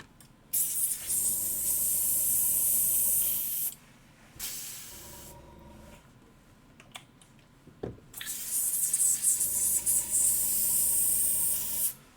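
An airbrush spraying white paint onto a miniature hisses loudly in two long bursts separated by a quieter stretch with a faint hum and small clicks; no voices.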